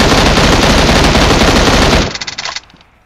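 Loud, close automatic gunfire in the PUBG Mobile video game, a sustained rapid burst that cuts off abruptly and trails into a few scattered shots.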